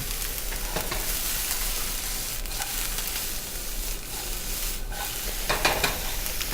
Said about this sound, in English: Now that our butter's melted, we're going to add our onions.